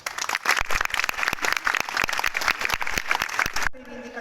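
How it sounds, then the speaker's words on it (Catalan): Crowd applause at a Pride rally in Alzira: dense, loud clapping from many people that continues for several seconds and then cuts off abruptly near the end. "un fort aplaudiment per a tots vosaltres"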